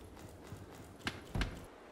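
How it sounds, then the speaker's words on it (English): Footsteps in the Roblox shooter game Deadline, a few irregular soft thuds, two louder steps near the end, against a quiet background. "I hear footsteps to my right."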